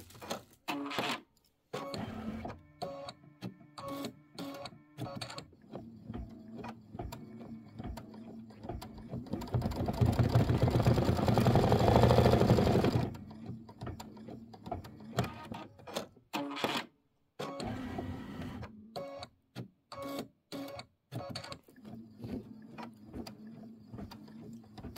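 Embroidery machine stitching a large star placement line for a Nativity bench pillow block, a rapid ticking and clattering run broken by short pauses, with one denser, louder whirring stretch in the middle.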